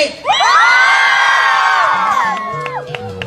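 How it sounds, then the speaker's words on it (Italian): A live concert audience at a 1 May 2013 outdoor show in Montesano roars on cue, a loud sustained shout and cheer that holds for about two seconds, then breaks into scattered whoops and fades. "io faccio 1, 2, 3 e voi urlate per riscaldarci"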